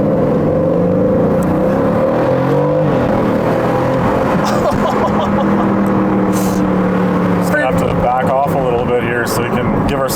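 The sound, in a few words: 2023 Aston Martin Vantage F1 Edition exhaust while accelerating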